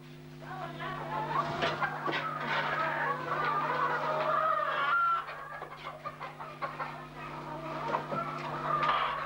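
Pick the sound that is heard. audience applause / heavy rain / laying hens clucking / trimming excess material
laying hens clucking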